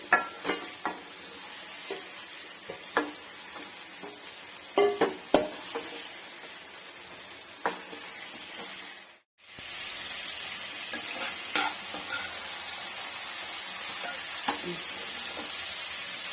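Soybean chunks frying in hot oil sizzle steadily up close while a ladle stirs and scoops them out, its sharp knocks and scrapes punctuating the hiss, with a brief drop-out midway.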